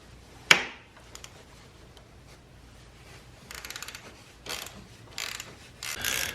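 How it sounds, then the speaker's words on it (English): Ratchet wrench loosening a bolt on a crash bar bracket of an NX500 motorcycle, with a sharp metallic knock followed by several short bursts of close ratcheting clicks. "we're going to be removing that bolt right there"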